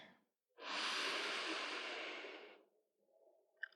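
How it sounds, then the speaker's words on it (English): A single long, deep inhalation taken slowly through the nose, close and breathy, lasting about two seconds, followed by a quiet pause and a faint trailing sound. "Take a deep breath in."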